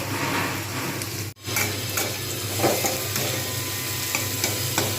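Sliced onions frying in oil in a pan until deep brown and crisp for egg biryani, a close, steady sizzle with stirring scrapes and a brief break in the sound partway through.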